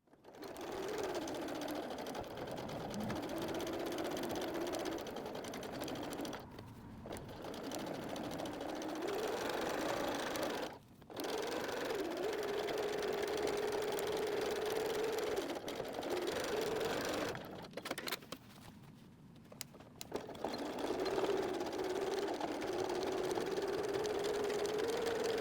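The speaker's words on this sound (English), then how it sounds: "We'll top stitch around the curved line as well as straight across the" Sewing machine top stitching the curved edge and straight top of a messenger bag flap, a steady mid-pitched motor whir running nearly continuously with a few brief pauses between seams, close and clear.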